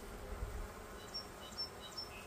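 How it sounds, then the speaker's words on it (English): Worker honey bees make a soft, steady buzz inside a hive, with no speech over the faint hum. "These are all, you know, just working bees."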